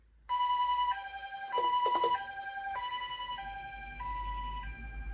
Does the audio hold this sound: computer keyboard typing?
no